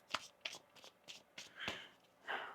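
Several quick, crisp tarot card riffles and shuffles in a loose rhythm, close and quiet, with soft flicks between them.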